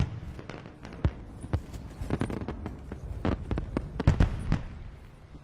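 Firecracker-like flares pop in the Black Ops 4 Blackout video game to signal the circle moving, a rapid irregular string of sharp crackling bursts, some loud and close, over a low rumbling background.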